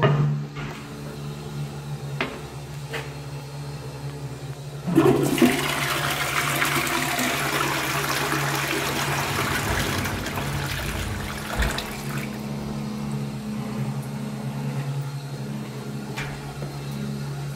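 A 1970s Johnson Bros toilet cistern flushes through its siphon with a sudden loud rush of water, pouring hard for several seconds before easing into a quieter trickle and refill; no voices.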